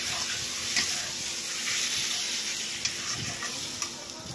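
Spice masala sautéing in a pan for a vegetarian potato, pointed gourd and paneer dish, a steady close sizzle with occasional scraping stir strokes and small pops throughout.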